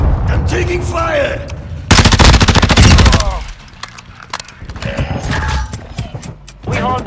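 Rapid machine gun fire crackles in the Call of Duty Warzone 2.0 DMZ mode on the Vondel map, a loud sustained burst over a second long amid other game sounds, with in-game voice callouts before and after.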